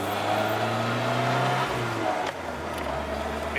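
An abandoned BMW supercar engine runs steadily, its low drone rising and falling as it is revved, loud and close with no voices over it.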